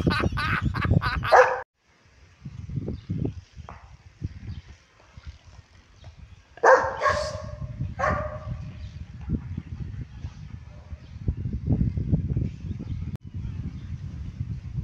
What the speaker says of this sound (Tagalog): Pero aso yan.